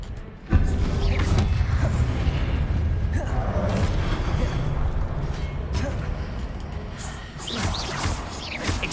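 Spellcasting from the video game Hogwarts Legacy: a sharp boom at the start followed by sustained dense rumble and crackling bursts, loud and continuous with scattered impacts throughout.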